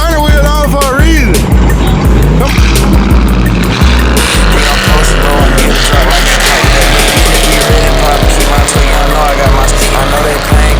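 A car slides at a crowded car meet, loud revving engine and squealing tires over a continuous roar, with people shouting nearby.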